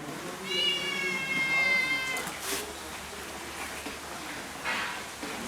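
A cat meows plaintively a couple of times, close by, over a soft background hiss and faint rustling.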